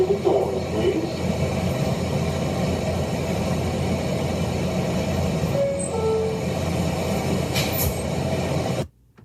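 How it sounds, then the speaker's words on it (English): A Manhattan-bound F local subway train on the New York MTA rumbles steadily in a low, continuous roar for most of the passage, with a few faint squeals midway, then cuts off abruptly near the end. "This is a Manhattan-bound F local train."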